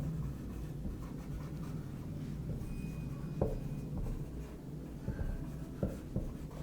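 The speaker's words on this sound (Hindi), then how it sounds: "इसी पेन से लिख लेते हैं।" A pen writes on paper during a study lesson on the internal ear, giving soft, continuous scratching strokes with a few small taps against a steady low background, close and fairly quiet.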